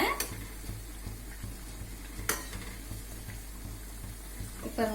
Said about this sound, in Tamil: மீடியம் ஃப்ளேமில் வச்சு பொரிங்க.